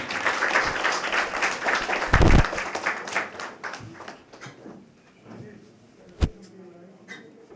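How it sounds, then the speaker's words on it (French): A crowd applauds to welcome Haiti's public health minister at a hospital reopening, loud clapping at first that thins and tapers off, with a sharp knock near the end. "sur vos applaudissements"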